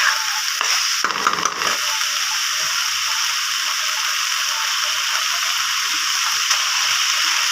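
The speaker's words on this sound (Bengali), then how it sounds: "আমি চালগুলোর সাথে মশলাগুলো ভালোভাবে মিশিয়ে" Rice is stirred together with spices in a pan for egg pulao, producing a continuous loud hissing sizzle with a brief scraping burst of stirring near the start, close and with no voices.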